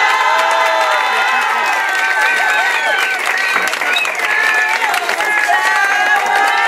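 Crowd at a Zumba women's event award ceremony in Cuautla, loud sustained clapping and cheering with shouts and whoops riding over it, while voices carry through the din.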